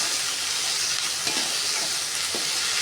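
Onion, ginger and garlic sauté in a pan for mutton biryani, giving a steady, close sizzle with faint stirring scrapes and no talking.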